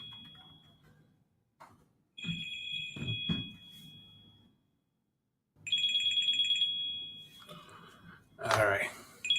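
Two bursts of a loud electronic phone ringtone, each lasting under two seconds with a short gap between them, sound close and clear, with talking in between and after.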